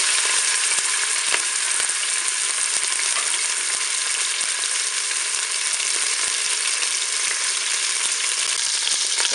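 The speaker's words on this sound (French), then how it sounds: "Je vais commencer par mettre mon rôti pour le faire dorer sur toutes ses faces." A pork roast browns in olive oil inside a Cookeo multicooker, giving a loud, steady frying sizzle with a few faint clicks scattered through it.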